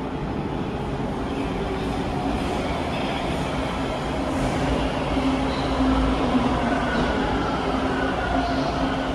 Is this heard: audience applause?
no